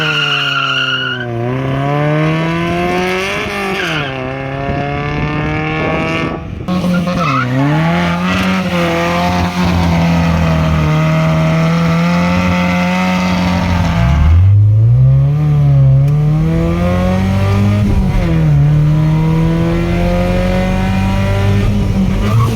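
Modified Nissan 1400 pickup with an A14 engine accelerating hard: a loud, close engine note that climbs steadily through the gears, dropping in pitch at each shift, with a raspy exhaust throughout.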